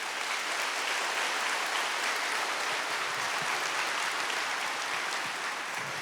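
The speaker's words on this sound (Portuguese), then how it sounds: "Queria que você desse uma grande salva de palmas." Steady, dense applause from a church congregation during a Catholic service, sustained and even throughout with no voices rising above it.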